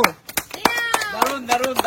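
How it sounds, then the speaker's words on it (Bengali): Several sharp hand claps, irregular and close, celebrating a young sister who won a flip-the-bottle game, mixed with overlapping voices and chatter. "জোরদার তালিয়া ওর জন্য।"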